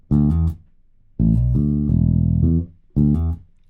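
A virtual bass guitar played from keys with Waves Bass Fingers, shifted to fretboard position 5, plays a short phrase: two brief plucked notes, a longer sustained run of several notes, then one final plucked note, loud and clean.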